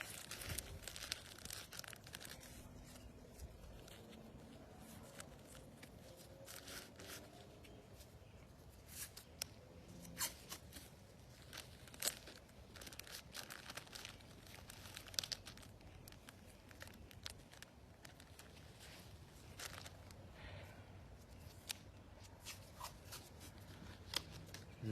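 Medical tape rips and crinkles in repeated short bursts, close and soft, while a chest seal is taped in place during a trauma assessment, with faint rustling between the tears.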